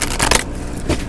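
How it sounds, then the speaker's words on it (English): A deck of cards being shuffled up close, giving dense riffling bursts followed by a short pause and a final flutter. "I'm gonna do one more shuffle after this"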